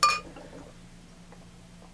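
A bright glassy clink at the start of an IPA pour into a glass, followed by a soft, quiet fizz and trickle fading under a steady low hum.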